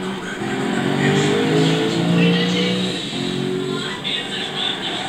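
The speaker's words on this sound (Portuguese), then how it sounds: "O Audi V8 tem ronca forte" Loud, close engine roar of a mid-engine, rear-drive Spyker C8 Laviolette with a 4.2-litre 40-valve V8, driven on the Cape Ring interior track in Gran Turismo 6. The pitch climbs, then drops with gear shifts partway through.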